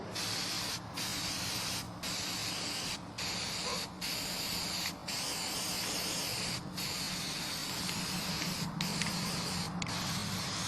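Steady close hiss of spray paint from an aerosol can onto a graffiti stencil, laid down in long continuous bursts separated by brief pauses, with no voices.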